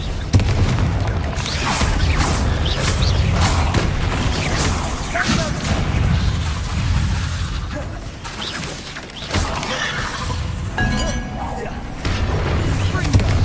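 Bombarda and Confringo blasting spells in Hogwarts Legacy, a dense, continuous barrage of booms, crashes and crackling impacts layered over battle din, with voices speaking throughout.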